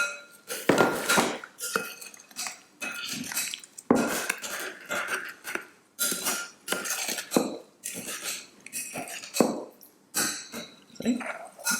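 A utensil stirs melted butter and coconut sugar in a bowl, giving continuous close scraping and clinking against the dish in an uneven, busy rhythm throughout.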